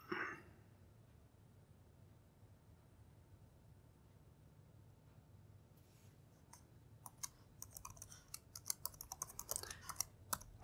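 A password is typed on a computer keyboard at close range, with quiet, rapid key clicks coming in an uneven burst after a few seconds of low room hiss.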